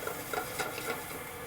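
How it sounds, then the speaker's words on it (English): Shallots and garlic are sautéed in a pan over medium heat, giving a soft, even, close sizzle with faint stirring, heard alone. "sauteing my shallots and garlic"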